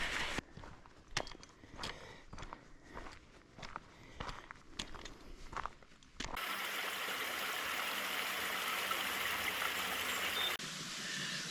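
Crunching footsteps and handling noises give way to several seconds of continuous rushing, flowing water from a stream on the West Highland Way in Scotland before it cuts off abruptly.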